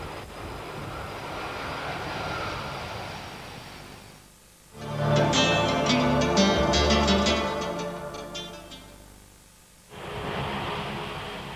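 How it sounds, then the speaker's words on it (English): A Boeing 747-400 jumbo jet lands on a runway, a loud engine roar and rushing whoosh swelling for several seconds between steadier background noise. "The blue smoke produced by the stationary tires hitting the runway signals another 747 arrival."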